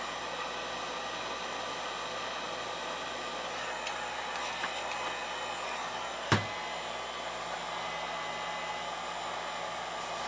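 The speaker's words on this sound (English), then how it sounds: "That's why I switched to low heat once the heat gun got up to operating temperature on high." A heat gun on low blows steadily against a cardboard tube during a Philco 38-62 radio restoration, a constant airy roar with one sharp knock partway through.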